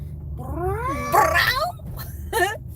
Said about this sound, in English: Anyways, forget that cat.